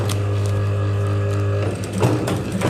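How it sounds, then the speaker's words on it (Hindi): A sewing machine stitching pleats into a belt salwar runs with a steady droning motor hum, then breaks into a few rattling mechanical clicks near the end. "वो सिलाई लगाते जाइए।"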